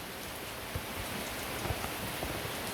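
Steady rain falls on a house in Thailand during a morning downpour, a dense even hiss with scattered louder drops striking nearby surfaces, no voices.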